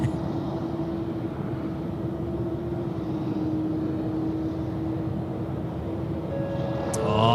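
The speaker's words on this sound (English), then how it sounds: "here they are currently taxiing down Alpha" A China Eastern Boeing 737 taxis at Sydney Airport at night, its engines holding a steady, even drone with a faint whine running throughout and a slight swell in loudness near the end.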